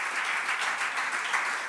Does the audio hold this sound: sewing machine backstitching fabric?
no